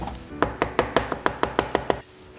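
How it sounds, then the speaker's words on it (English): A knife chops steadily on a cutting board while mincing two cloves of garlic, about ten crisp, evenly spaced strikes close up, then stopping. "I hate mincing garlic."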